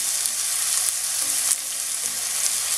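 Bengali fish curry sizzles in a pan while being mixed, a close, constant frying hiss with a brief scrape of stirring midway.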